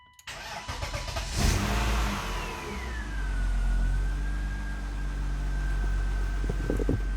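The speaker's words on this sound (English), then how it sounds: "This time, we're hoping it'll start up without a battery light on." A BMW E36 engine starts with a sharp crank and catch, then settles into a loud, steady idle with a rising whine from a fan or belt, heard up close with no talk.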